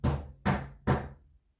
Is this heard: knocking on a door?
yes